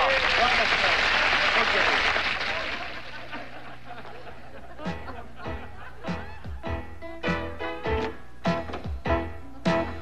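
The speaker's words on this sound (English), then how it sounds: "Lots of applause, lots of enthusiasm" Studio audience applause fades out over the first few seconds, then a voice speaks briefly and sharp individual claps and knocks follow in an irregular scatter.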